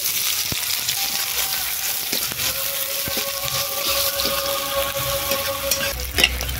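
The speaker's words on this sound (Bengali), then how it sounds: "পেঁয়াজগুলো লাল লাল করে ভাজা হয়ে গেছে।" Chopped onions frying in mustard oil with five-spice seeds in a wok, a steady close sizzle with occasional stirring scrapes running the whole way through.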